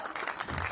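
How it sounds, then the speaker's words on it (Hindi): Brief burst of clapping from an audience at a ceremony honouring a 100-year-old navy veteran, a short dense patter of hands at moderate volume. "जोरदार तालियां।"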